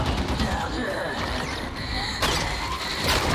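Trapper enemy in a video game: dense mechanical creaking and ratcheting noise with harsh metallic textures, loud and continuous throughout with a sharper swell near the end.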